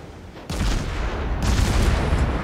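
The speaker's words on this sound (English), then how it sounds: "He's firing whole loads of HE trying to hit me." Naval guns fire HE shells in World of Warships, with two heavy booming salvos about a second apart that roll into a dense, rumbling barrage, loud and close.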